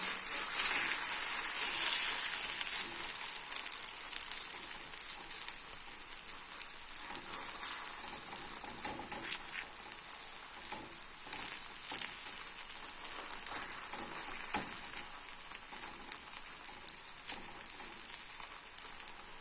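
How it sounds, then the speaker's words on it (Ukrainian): Steady bright sizzle of zucchini batter frying in a hot pan, continuous and close, with a few small pops and crackles throughout. "Тепер смажимо з обох боків."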